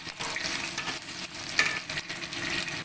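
Vegetables fry in a pan as a little tomato is tossed in, a dense steady sizzle with brief scraping stirs, close and fairly loud, no talk.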